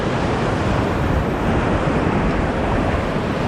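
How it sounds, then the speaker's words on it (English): Ocean waves at My Khe Beach in Da Nang wash in a steady, dense roar of surf with some wind noise, continuous and fairly loud, with no voices. "The waves aren't too choppy, so it's pretty safe for swimming."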